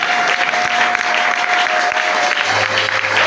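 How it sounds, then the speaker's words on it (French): Loud, continuous applause from a congregation at an Assemblies of God church service, dense clapping with a faint tonal hum beneath it. "On applaudit pour le Seigneur"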